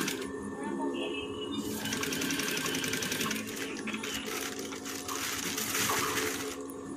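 Sewing machine fitted with a single-sided presser foot stitching fabric around mattress thread to make bias piping filler. It runs steadily and evenly close by, with a continuous mechanical whir, and a voice talks over it.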